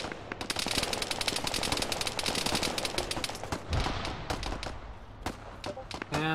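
Dense gunfire rattles in a military video game, with rapid machine-gun bursts and scattered single shots, loud and nearly continuous.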